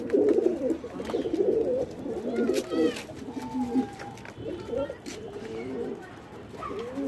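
Pigeons coo steadily on a rooftop loft in the Jammu region while grain is scattered for them, their low burbling calls close and continuous with brief higher notes breaking through.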